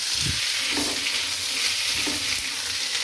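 Raw tomatoes fry in a hot pan with a steady, bright sizzle, while occasional scrapes of stirring break through up close; no one speaks.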